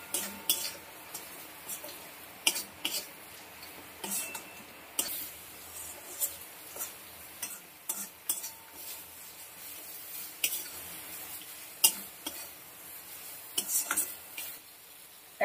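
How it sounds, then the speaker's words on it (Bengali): Food in a cooking pan is stirred, giving irregular clinks and scrapes of a utensil against the pan at close range over a soft background sizzle, with no talking. "এবার একটু নেড়ে চেড়ে নেব।"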